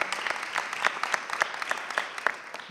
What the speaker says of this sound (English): as we applaud you